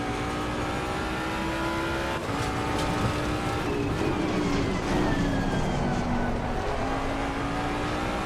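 A Ford Mustang GT3 race car in the sim racing game Assetto Corsa Competizione drones steadily at high revs through the whole stretch, with pitch rising and falling through gear changes and other cars' engines mixed in, no talking.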